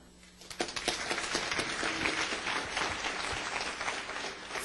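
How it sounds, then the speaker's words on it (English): An audience at a law-themed Ignite talk event gives a round of applause, starting after a quiet moment and swelling into sustained, dense clapping that continues at steady volume. "I would like to have a quick round of applause for everyone who's gone before"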